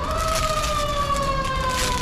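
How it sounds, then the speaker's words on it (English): An emergency vehicle siren wails loud and steady on a city street in Gangnam, Seoul, its tone sliding slowly over a constant rumble of traffic. "They're sounding the siren."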